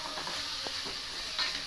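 A quarter kilo of chicken frying in a pot for biryani sizzles softly while a spoon stirs it, with a few brief scraping strokes over the steady hiss.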